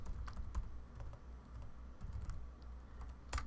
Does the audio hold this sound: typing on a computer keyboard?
yes